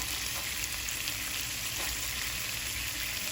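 Raw shrimp sizzling in a hot pan for jambalaya grits, a dense, steady frying hiss close up and without a break, with no voices.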